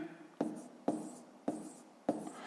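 Pen strokes on paper during a fifth-grade maths exercise, four short scratchy bursts in an even rhythm, close and clear.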